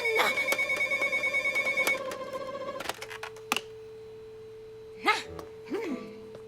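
A cartoon telephone rings in a rapid, steady electronic trill for about two seconds, loud and close, then stops, followed by a few short clicks and brief vocal squeaks.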